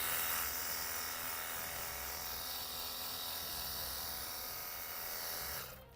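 A car wash pressure spray gun runs with a steady, loud hiss and motor buzz for several seconds before cutting off abruptly near the end.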